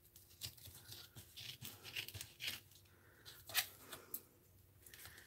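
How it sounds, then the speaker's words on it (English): Scissors snipping and trimming material off the spine of a handmade art journal, a series of close, crisp cuts with light rustling and crinkling between them. "I'm going to see if I can't trim this off a little with my scissors."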